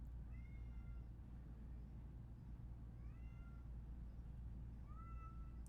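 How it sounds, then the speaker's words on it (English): A pet cat named Kirby meows loudly several times in a house, with drawn-out rising and falling calls over a steady low hum. No one talks during it. "the cat is literally yelling in the background again"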